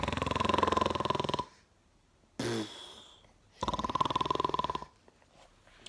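A voice imitates the loud, rasping snoring of an old man, giving two long snores split by a short snorting breath, close and alone.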